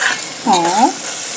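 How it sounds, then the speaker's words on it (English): Chicken curry simmering and bubbling in a pot, a soft steady sizzle with a brief stirring scrape in the middle, close and alone. "Let's give it some time to simmer. Is it simmering? Yes."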